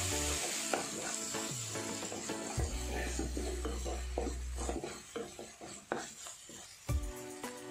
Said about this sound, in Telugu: ఇలా మధ్య మధ్యన ఇలా కలుపుకుంటూ వేయించుకోవాలి, లేదంటే మాడిపోతుంది అడుగు పట్టి.